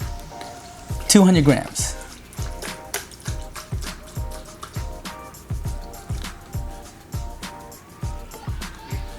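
Unsweetened almond milk poured into a mixer with a steady run of soft liquid glugs and drips, close by, while a voice talks over it.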